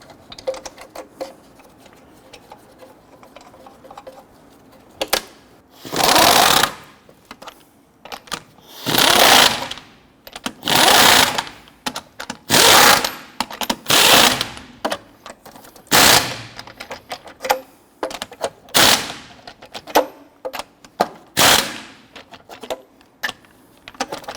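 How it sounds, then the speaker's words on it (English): A power tool tightens lug nuts on a 2006-2014 Honda Ridgeline wheel, firing in about eight loud, rattling bursts separated by short quiet pauses, close up and with no talking. "Once these are all started, I'm going to go ahead and snug them all down."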